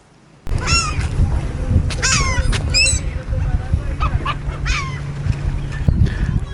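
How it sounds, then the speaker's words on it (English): Birds around an ocean-front campsite in South Texas give repeated loud squawking and honking calls in bursts over steady outdoor wind and rumble. "A lot of birds around here."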